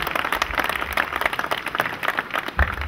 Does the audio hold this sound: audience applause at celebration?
yes